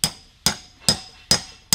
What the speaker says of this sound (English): And then I'm just going to hammer this down.